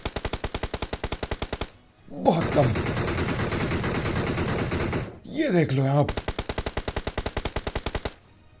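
Rapid automatic gunfire in the mobile battle royale game BGMI, two long bursts of evenly spaced shots separated by a stretch where someone talks over game noise.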